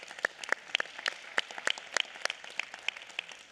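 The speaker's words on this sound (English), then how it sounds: "Give her a big round of applause." Scattered applause at a Los Angeles County Board of Supervisors meeting: a thin, uneven patter of individual claps, fairly quiet and somewhat distant, with no voices over it.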